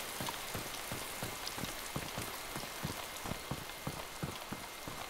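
Steady rain in the video game DayZ, a dense patter of drops on surfaces with regular sharper taps throughout, fairly close and continuous, no voices.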